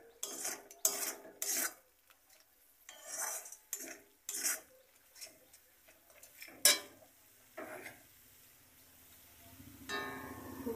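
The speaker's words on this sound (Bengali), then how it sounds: "ফুলকপি আর আলুগুলো আমি দিয়ে দিচ্ছি।" Cauliflower and potatoes tipped into a pan of cooked-down spice paste, giving scattered clinks and scrapes of utensils against metal, close and fairly quiet, with short pauses between knocks.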